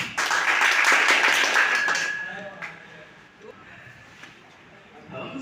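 An audience at a Teachers' Day event in Lucknow claps together, a dense burst of applause for about two seconds that then thins out into scattered background murmur.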